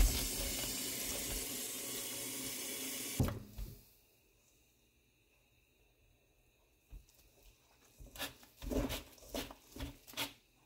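A kitchen tap runs into a sink while cauliflower is washed for gobi pakora, a loud steady gush that stops abruptly, followed by quiet and then a few scattered clatters and splashes.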